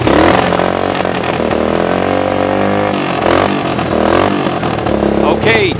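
A Honda-powered UTV converted from a 1988 electric EZGO idles and revs up close and loud. The engine drones steadily with rising and falling pitch, while a voice talks over it.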